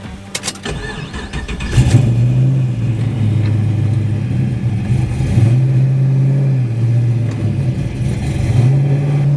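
A Pontiac GTO with an LS engine cranks and starts, then revs and pulls away, loud and close, its steady drone rising and falling as it drives off.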